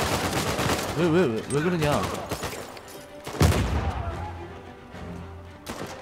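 Bursts of gunfire in Uncharted 4 crackle in irregular volleys, with one sharp loud shot standing out, under someone speaking Korean.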